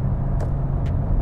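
A Dacia Duster running on LPG pulls at full throttle, its engine a steady low rumble heard from inside the cabin, with a couple of faint clicks over the drone.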